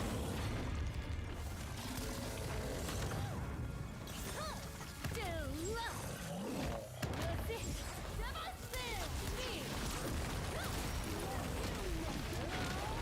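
Fireball and explosion skills go off in the isometric video game Lost Ark: repeated booms and bursts with busy combat effects, mixed under someone talking throughout.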